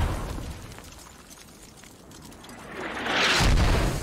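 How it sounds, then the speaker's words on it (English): Mortar rounds from the video game Squad boom with a low rumble at the start, fade into a hiss, then a louder crashing blast rolls in near the end. "Ooh, mortar's getting close."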